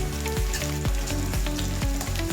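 Onion frying in a pan, a dense continuous sizzle with crackling spatter and a few periodic scrapes or knocks, loud and close.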